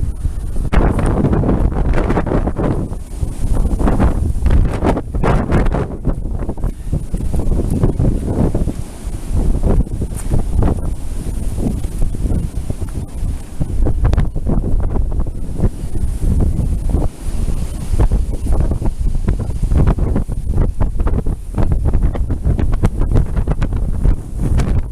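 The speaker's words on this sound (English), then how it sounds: "There's waves on our lake." Storm-driven waves churn across a lake while strong wind buffets the microphone in a continuous loud roar, with no voices.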